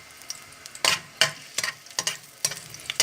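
Chopped garlic hits hot oil while cooking a vegetable dish, giving sharp bursts of sizzle and stirring clatter, five or six quick hits close by with a faint frying hiss between them.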